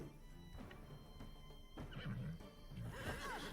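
A battle horse in the fantasy strategy game Wartales gives a loud, close whinny with a wavering, descending neigh near the end, over a bed of game ambience and faint hoof clatter.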